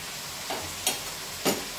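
Pancit sotanghon noodles being mixed in a pan, with a few soft, brief stirring and scraping strokes over a quiet sizzling background and no talking.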